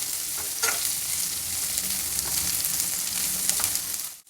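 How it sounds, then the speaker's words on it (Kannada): Sliced ridge gourd frying in oil over a high flame, a loud, dense, continuous sizzle close up that cuts off abruptly at the end, with no voices. "ಪಡವಲಕಾಯಿ ಹಾಕಿದ್ಮೇಲೆ ಎಣ್ಣೆಯಲ್ಲಿ 1 ನಿಮಿಷ ಈ ಥರ ಫ್ರೈ ಮಾಡಬೇಕು."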